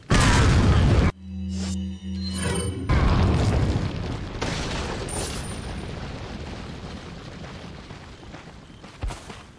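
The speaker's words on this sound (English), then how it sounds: "We are going to get out a hand grenade." A thrown hand grenade in the video game Resident Evil 4 bursts with a loud, deep boom, followed by a second heavy blast and a long rumbling decay.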